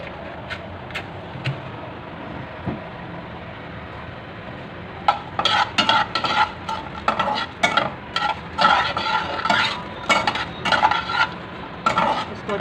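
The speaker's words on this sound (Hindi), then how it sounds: "4-5 लौंगे, 2-3 इलायची, ये दालचीनी का छोटा सा टुकड़ा। इसको अच्छे से भून लेंगे।" Whole spices, four or five cloves, two or three cardamom pods and a small piece of cinnamon, dry-roasting in a pan, with a spoon stirring and scraping against the metal in quick irregular strokes, growing busier midway.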